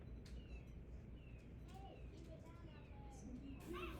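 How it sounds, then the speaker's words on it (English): Birds outside squabble in short chirps, squeaks and cooing calls that rise above a steady low room hum and soft murmur, faint and fairly distant. "So is there some kind of bird gladiatorial combat going on?"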